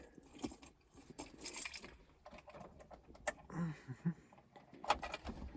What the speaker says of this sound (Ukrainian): достаємо наші ключики